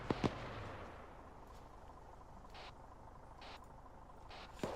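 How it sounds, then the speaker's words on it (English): A gunshot warning crack from Arma 3 gameplay: two sharp reports right at the start, followed by quiet ambient noise and a further faint pop near the end. "Warning shot. Warning shot."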